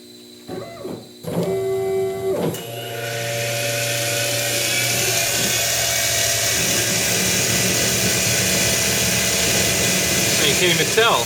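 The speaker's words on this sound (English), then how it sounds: "It's doing helical interpolation, but you can't even see it moving." A CNC mill doing helical interpolation on a titanium pendant gives a sustained high-pitched whine with steady tonal harmonics, preceded by a few short spindle bursts; a voice talks briefly over it.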